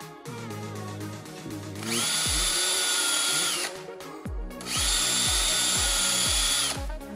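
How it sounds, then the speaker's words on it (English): A power drill boring holes into a snowblower impeller, two sustained high-pitched drilling bursts separated by a short pause, with lower-pitched tool and motor sounds at the start. "So I'm gonna drill three holes here."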